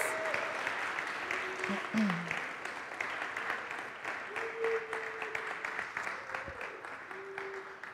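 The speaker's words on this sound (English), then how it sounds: "Let's give Claire a round of applause" An audience at a graduation recognition claps steadily for several seconds, faint and even, while a speaker talks over the applause.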